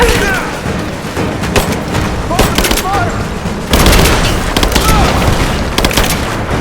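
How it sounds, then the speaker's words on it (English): Gunfire and explosions rage in the video game Rise of the Tomb Raider, a loud, dense barrage of shots and booms mixed with shouted voices throughout. "I'm taking fire! Give me suppressing fire!"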